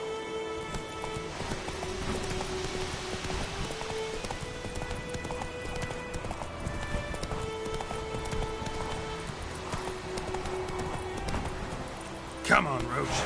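Roach, a horse in The Witcher 3, gallops through rain with a steady, close clip-clop of hooves under the patter of rainfall and game music, a voice urging her on.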